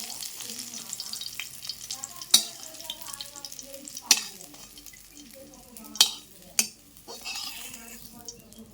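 Steady sizzling of egg and cabbage stir-frying in a hot pan while a utensil stirs and scrapes, with several sharp metallic clinks against the pan.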